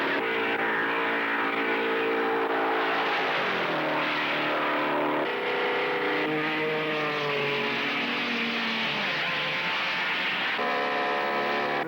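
An AMC Javelin Trans-Am race car roars through a 12-hour endurance race at Sebring, Florida, its engine note loud and steady with rising and falling harmonic pitch as it pulls away, and no talking.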